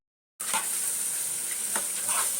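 Onions and meat sauté in a hot pan for a Ramadan meal. A loud, continuous crackling sizzle starts abruptly, with faint stirring scrapes in the mix and no talk.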